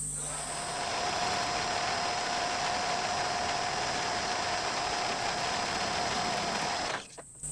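A lathe cuts the crank webs of a Stuart Turner 10H steam engine, giving a steady whirring hum with a thin sustained tone above it. It runs evenly at moderate volume and then stops abruptly near the end.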